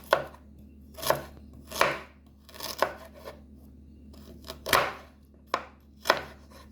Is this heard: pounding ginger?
yes